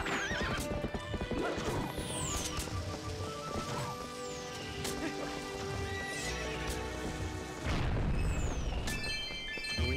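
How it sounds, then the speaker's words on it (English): Horse in Zelda: Twilight Princess gallops with steady clip-clop hoofbeats and loud whinnies over game music and a faint rain-like wash, with no talking. "Oh, I'm sorry, horsey. I'm gonna push you too hard."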